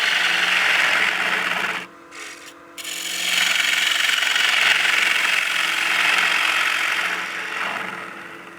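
A lathe gouge shaves spinning poplar in a steady, hissing scrape, pausing briefly twice before resuming with the lathe's motor hum underneath.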